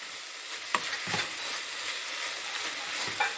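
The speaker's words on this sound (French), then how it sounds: "Je vais laisser encore cuire juste quelques minutes, le temps que la plaque est encore chaude." Cooked minced meat in a pan on a cooling hob gives off a steady, moderate frying hiss with a few scraping stirs, close and without talk.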